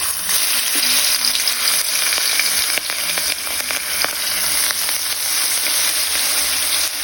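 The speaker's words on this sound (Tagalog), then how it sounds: "Igisa lang natin ito mga kaulam ideas hanggang sa maluto yung sibuyas." Sliced onions sautéing in a small amount of oil for a bangus fish steak, a steady dense sizzle with faint scattered crackles, close and continuous without any voices.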